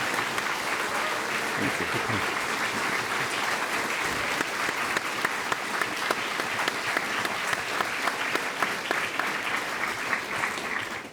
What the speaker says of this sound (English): Usually I only get the applause afterwards, so I'm glad that we already get some.